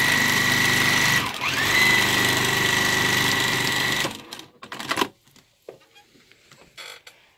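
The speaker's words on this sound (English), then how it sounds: "I sew all the way across" A sewing machine sews a long straight line across a hooded towel, a loud close whir for about four seconds before it stops and leaves faint handling clicks and rustles.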